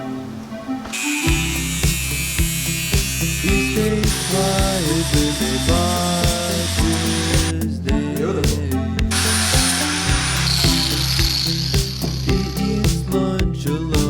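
Power tool grinding and rounding off metal corners on a 1978 Toyota Corolla, a loud continuous high whine with shifting pitch and harsh rasping, briefly easing and surging again throughout.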